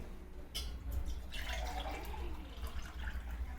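Coconut water is poured from a large coconut into a 300 ml glass. The liquid makes a soft, steady trickle and gurgle that runs quietly for a few seconds, with no voices.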